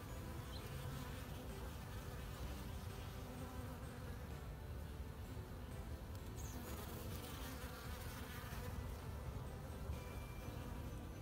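Agitated honey bees swarm at an open hive being inspected at the bottom boards, producing a dense, steady, close buzzing drone that continues unbroken with no talking.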